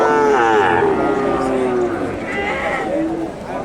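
Friesian heifer cattle lowing at a cattle market in Bogura, with long drawn moos close by over market bustle and a talking voice.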